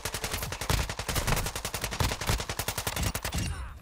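Rapid automatic gunfire from a weapon in the video game DMZ, a loud continuous burst of evenly spaced shots that stops abruptly near the end, with no talk.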